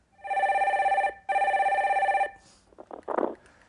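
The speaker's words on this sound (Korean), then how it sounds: "세 번째 전화 받아보겠습니다." An incoming-call telephone rings in two loud, closely spaced electronic trilling bursts, followed by brief handling clatter as the call is picked up.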